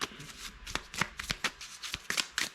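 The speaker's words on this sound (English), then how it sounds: "adjust and shuffle target cards. So we'll get these bad boys shuffled up." A deck of target cards for a September 1813 war board game being riffled and bridged by hand, a run of crisp, rapid fluttering bursts over about two and a half seconds, close up, with no talk.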